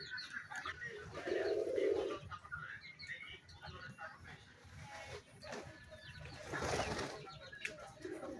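Native chicken chicks peep in scattered high chirps alongside clucking fowl, with a louder burst of noise midway and a voice calling now and then.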